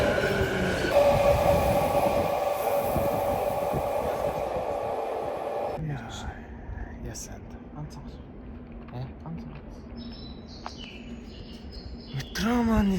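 A metro subway train in Japan rumbles loudly through a tunnel with a steady roar, then eases into quieter rolling and faint clatter with a squeal near the end, while people talk nearby.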